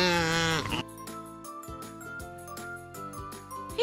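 A sheep bleats once loudly at the start, a wavering harmonic call, followed by cheerful background music with tinkling notes.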